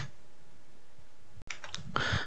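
Clicking computer keyboard keys while writing a Java for loop, a few sparse taps early then a quick burst of keystrokes near the end, close and fairly quiet.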